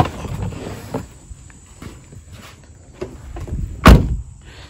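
A Pontiac G8 car door is tested from the inside, with soft handle clicks and light knocks followed by one sharp, loud latch thud near the end, set against quiet background hiss.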